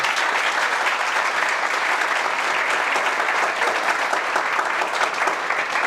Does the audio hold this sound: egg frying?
no